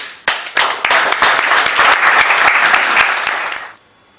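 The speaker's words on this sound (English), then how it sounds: "So first of all, an applause." A startup event audience breaks into loud, close applause, starting with a few sharp claps that build into a dense burst of many hands, then stops abruptly.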